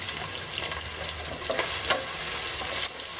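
Ginger and garlic fry in coconut oil for a Kuttanadan-style duck curry, a bright steady sizzle up close with a few quick stirring scrapes near the end.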